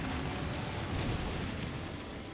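An explosion roars in the video game Monster Hunter Generations Ultimate, a loud, dense, sustained rumble with no pause.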